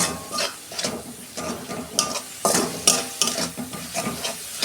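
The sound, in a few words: stir-frying garlic, dry chili paste and ground spices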